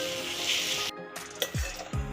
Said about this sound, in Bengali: মশলাটাকে আমি কষিয়ে নেব।